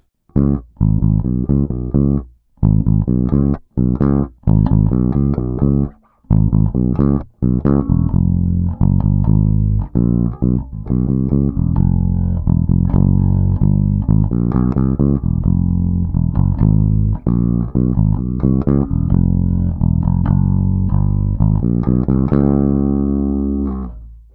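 A funky, busy Motown bass guitar line plays in a full band mix with a horn section on a song, steady and loud throughout, with brief gaps early on.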